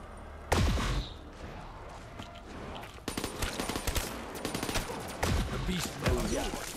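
Gunfire in Call of Duty Zombies on the Asylum map: a sharp shot followed by bursts of rapid rattling fire and a few louder bangs, close and punchy.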